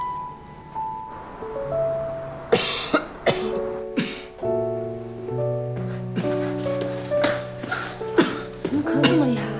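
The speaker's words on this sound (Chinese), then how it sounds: "怎么咳这么厉害啊？" Several sharp, harsh coughs burst out in a quick run over a soft music score in a TV drama scene, loud and close to the listener.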